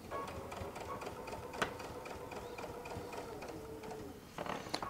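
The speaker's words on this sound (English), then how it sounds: "I'm going to set my stitch length at 2 millimeters, and we're going to see what happens." A Baby Lock Alt sewing machine fitted with an adjustable bias binder foot stitches at a steady, close-up whir with fine mechanical ticking, running continuously with one brief sharp click partway through.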